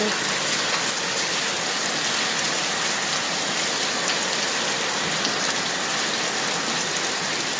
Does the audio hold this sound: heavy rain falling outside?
yes